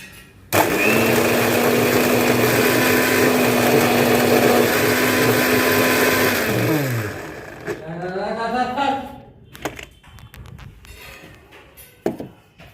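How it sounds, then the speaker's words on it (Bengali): An electric mixer grinder whirs loudly while grinding spices dry at home. It holds a steady high-pitched roar for several seconds, then slows and winds down, followed by someone speaking and some faint clatter. "অল্প জিনিস হলে মিক্সিতে বাটতে গেলে কি বলো তো, দিতে হবে শুকনো"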